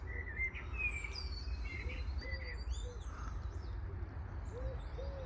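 A wood pigeon and a blackbird call in a garden, with faint fluting whistled phrases above and soft low coos below, heard at a distance over a steady outdoor hum without speech.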